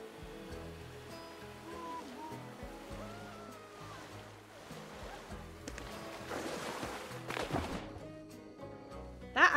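Water rushes and splashes as a flume ride plunges in the theme park game Planet Coaster 2. A steady watery wash builds to louder splashing bursts near the end, with faint musical tones underneath.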